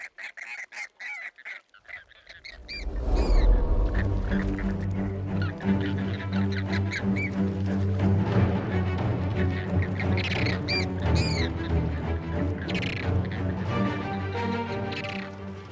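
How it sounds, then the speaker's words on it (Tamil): Flamingo flock gathering in breeding season, a dense, loud chorus of honking, goose-like squawks from many birds at once, starting after a quiet opening and continuing steadily throughout. "ஃப்ளமிங்கோ பறவைகள் இனப்பெருக்க காலத்துல ஒன்னா சேரும்."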